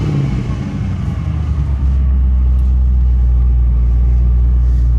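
A car engine fitted with a 600 Edelbrock carburetor idles steadily and loud with a deep, even rumble, slightly fast, running alone with no talk.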